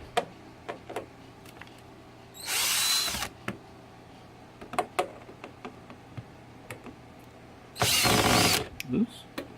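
Power drill backing screws out of trim on a Mazda Miata during a roll bar install, two short whirring bursts a few seconds apart, with scattered clicks and handling noises between them.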